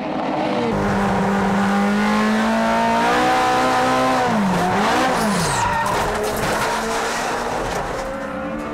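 Toyota AE86 race car circling a track, engine droning loud and close, pitch sliding down and back up as the tires squeal through a sudden oversteer, with continuous road and tire noise.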